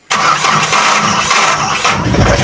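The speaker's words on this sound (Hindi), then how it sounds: "गाड़ी रे एमिति साउंड आसिले जानि परिबे जे कि सेल्फ प्रॉब्लम अछि" A Mahindra BS3 pickup with a faulty starter motor cranks loudly and continuously, a harsh, grinding churn close by with no talk over it.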